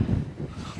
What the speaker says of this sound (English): Let me get out of this wind.